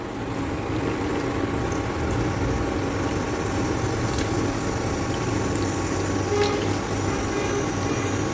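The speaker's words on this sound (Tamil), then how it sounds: "இப்போ இதை வந்து புளியை வந்து வடிகட்டி நம்ம ஊற்றணும்" Strained tamarind water for a Tamil-style kuzhambu pours steadily into a cooking pot, a continuous close watery rush with a few small clinks and no speech.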